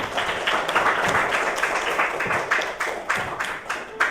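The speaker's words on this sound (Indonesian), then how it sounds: "Tepuk tangan untuk semua kelompok." A crowd applauding with steady, fairly loud clapping throughout, the sharp hand claps blending into a continuous patter.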